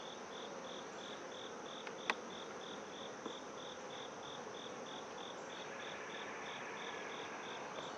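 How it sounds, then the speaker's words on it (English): A steady honeybee buzz hums from inside a hive alongside a faint, regular high chirping pulse, with a brief tap partway through. "we got some bees in there"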